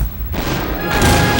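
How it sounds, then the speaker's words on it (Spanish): Loud cannon-like booms from the early days of the internet, a deep thud followed by a second heavy blast in quick succession, close and alone. "se oía un cañonazo cada vez que bajaba el software"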